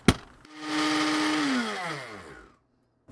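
A small blender motor, repurposed as a servo, spins up with a loud, steady whine that holds for about a second, then winds down in falling pitch to silence. A sharp click at the start and end.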